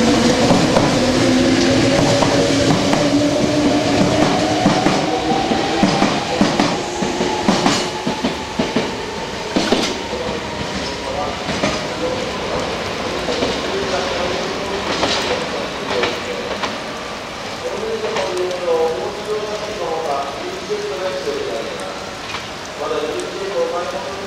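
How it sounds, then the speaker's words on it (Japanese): A Meitetsu 5300 series train pulls away with rising motor whine and rhythmic clickety-clack of wheels, while a recorded Japanese departure warning plays over the platform noise. "電車が発車しますご注意くださ"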